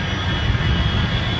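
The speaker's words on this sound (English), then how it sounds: "American Flight 1 is arriving in Los Angeles" An American Airlines Airbus, American Flight 1 Heavy from New York JFK, on final approach landing at Los Angeles on runway 24 left: a steady, loud jet engine roar, broadband and unbroken for a brief moment with no voices.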